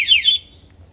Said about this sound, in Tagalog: Pag nilock natin, toot! Ibig sabihin yan yung normal.